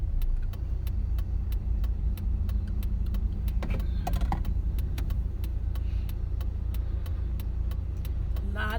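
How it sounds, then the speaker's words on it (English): Morning road traffic passing steadily, a continuous low rumble of vehicles with a brief louder pass near the middle, under a regular ticking sound throughout. "A lot of traffic this morning."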